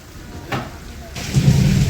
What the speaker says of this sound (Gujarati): જોરદાર વીજળી પડી હમણાં